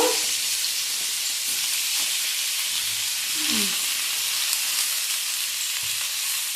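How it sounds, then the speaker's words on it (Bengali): Cauliflower florets frying in hot oil give a steady, dense sizzle throughout, close and loud, with a few soft stirring scrapes underneath. "এবার ফুলকপিগুলো তেলের মধ্যে দিয়ে দেবো। ফুলকপিগুলো লাল লাল করে ভেজে নেব।"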